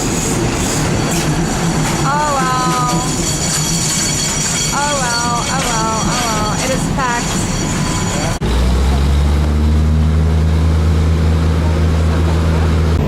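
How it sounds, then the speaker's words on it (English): Steady low rumble of a public passenger train running on the tracks toward Ayutthaya, Thailand, with voices talking over it and a loud engine hum swelling toward the end. "Made it in time for this train."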